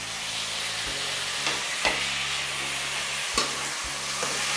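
Sliced tomatoes and other ingredients stirred into a hot pan, a steady sizzling hiss broken by several scraping spatula strokes and light knocks, close by with no voices.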